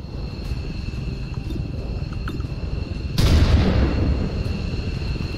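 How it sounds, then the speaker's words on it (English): Warning shots in XCOM 2 Long War 2: a low rumbling battle backdrop, then a sudden loud burst of gunfire around the three-second mark that lingers briefly before settling back into steady noise. "That's just warning shots."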